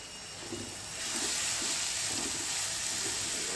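Chopped garlic and ginger frying in a pan, a steady soft sizzle and hiss that swells after the first second and holds level, with no voices.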